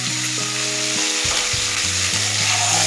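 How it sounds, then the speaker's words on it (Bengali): Pointed gourd frying in a pan with salt and turmeric gives a loud, steady sizzle with stirring sounds, alone without voices. "নুন আর হলুদ দিয়ে পটলগুলোকে ভেজে নেব 2 থেকে 3 মিনিট।"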